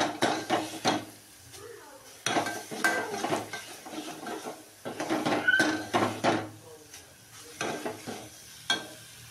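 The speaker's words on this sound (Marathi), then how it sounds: "मग हा मसाला थोडासा भाजून घ्यायचा." Masala dry-roasting in a pan for a pea curry, with soft stirring and scraping strokes in irregular bursts and brief pauses, close by, and a faint sizzle underneath.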